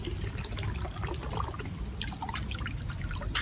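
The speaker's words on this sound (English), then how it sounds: "Now we are filling up our water bottle backwards." Water splashes and trickles into a broken water bottle being filled at a public fountain in Sion, Switzerland, a steady, bubbly pour with brighter spattering toward the end.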